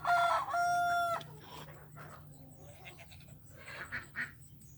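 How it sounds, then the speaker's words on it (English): A young rooster attempts a crow, a short strained call in the first second or so, followed by quieter farmyard background. "Did y'all hear my baby rooster learning his crow?"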